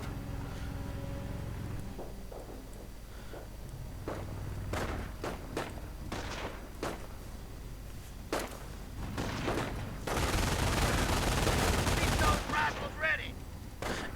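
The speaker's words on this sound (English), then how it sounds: "bike coming under fire from the rifleman, forcing the bike away" In a real-time strategy battle with riflemen and MG42 machine guns, scattered single rifle shots crack, then a loud sustained machine-gun burst erupts, all amid distant battlefield rumble and thuds.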